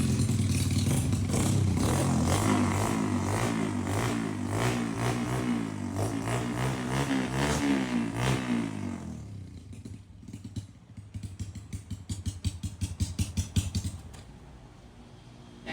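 A fuel-injected step-through motorcycle engine revs up and down several times, loud and close, then drops to a lumpy, ticking idle with a few quick throttle blips.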